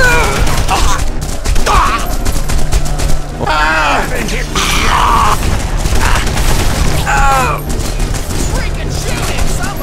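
Gunfire in The Punisher video game: bursts of shots and booming impacts mixed with shouting voices and game clatter throughout.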